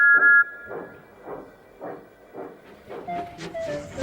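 A steam train chuffing in a steady, rhythmic beat as it pulls away, with a brief whistle at the start and hissing toward the end.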